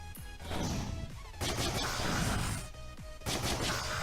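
The Sergeant character fires in Risk of Rain: loud, close bursts of rapid gunfire crack out in three clusters separated by short gaps, with sharp impacts layered through each volley.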